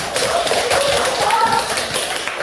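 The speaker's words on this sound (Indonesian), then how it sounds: "Ulang tepuk tangan yang semangat untuk kita semua" A classroom of students claps hands together in a dense, continuous, loud patter of applause that runs throughout.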